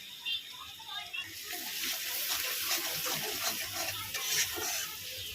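Water pours into a pan of prawn malai curry, a soft, continuous splashing gush heard close by at low volume for several seconds.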